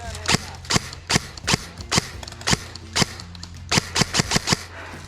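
Airsoft guns crackle in a team deathmatch at an outdoor field, a fast stream of sharp, close pops in uneven bursts over steady background noise.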